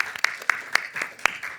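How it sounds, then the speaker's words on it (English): An audience claps at a 2024 convention session, with a few sparse, distinct hand claps spaced apart, light and brief rather than a full ovation. "I think that deserves a round of applause."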